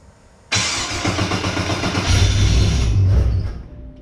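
An XG ute engine cranks and fires up abruptly, then runs loud and close with a rough rumbling idle that swells before easing off near the end, with no talking.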